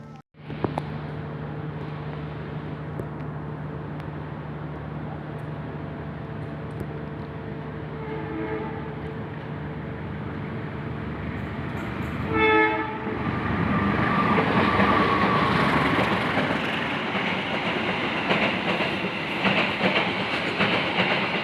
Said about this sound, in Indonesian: kita harus bersilang dengan kereta api Mutiara Timur fakultatif